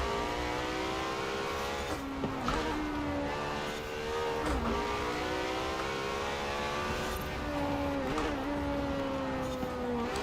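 Racing engines from McLarens and other cars in Forza Horizon 4 roar through a continuous high-revving drone, pitch sweeping up through gear changes with brief dips between shifts, loud and steady throughout.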